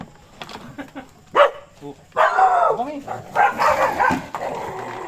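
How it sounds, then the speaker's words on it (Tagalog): Dogs bark and snarl in scuffling bursts, fighting close by during a land crab hunt, with excited people talking over the commotion. "naglalaban pa yung aso."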